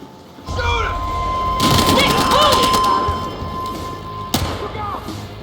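Gunfire in the video game Battlefield Hardline, a rapid burst of close shots over a constant game drone, then a single sharp bang near the end, with voices calling out.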